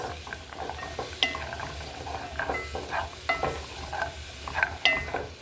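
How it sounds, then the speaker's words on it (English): Onions are stirred in a little oil in a pot, with repeated scraping and clinking of the utensil against the metal over a soft, steady sizzle. "Stir a little bit just to make sure it's well mixed with the little oil that we put in there"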